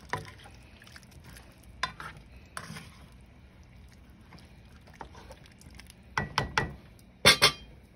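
Bacon and potato being stir-fried in a pan with seasoning, heard as soft scraping and faint sizzle with scattered spatula knocks, building to several sharp, loud clanks of utensil against pan near the end.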